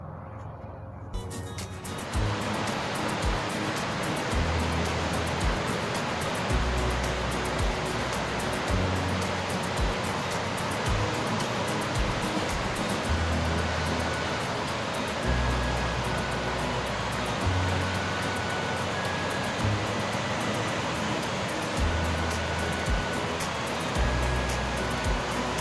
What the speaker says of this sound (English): we have reached the Carson River, and it is full at this time of year with all the snow melt from last winter.